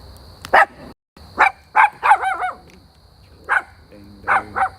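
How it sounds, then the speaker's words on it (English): A dog barks in short, sharp bursts, about six or seven loud yips and barks spaced irregularly with a few quick doubled ones, close by against a faint steady background hum. "Dang dog."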